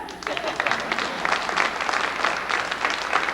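Crowd of film extras cheering and clapping in a medieval-style scene, with dense broadband noise holding steadily for the whole stretch and some voices mixed in.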